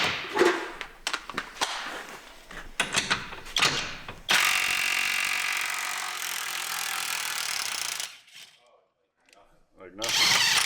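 A cheap impact wrench from Amazon works a semi truck lug nut with bursts of loud rattling hammering, then one long sustained run, a brief silence, and another burst at the end, with someone talking between bursts.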